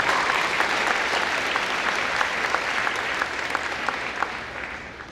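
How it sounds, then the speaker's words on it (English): Audience applause at an 8th grade promotion ceremony, steady sustained clapping from a large crowd with individual claps standing out, moderately loud and without speech. "I just want to give a round of applause to everybody that spoke before me, Ms. Ambry, Ms. Slayton, Emery."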